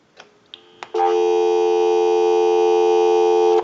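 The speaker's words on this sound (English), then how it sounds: "Give you some dial tone." A few soft clicks, then a steady, loud, unbroken dial tone from an Automatic Electric 902 rotary wall telephone that holds for a few seconds.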